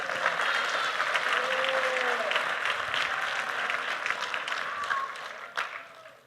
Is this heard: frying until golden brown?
no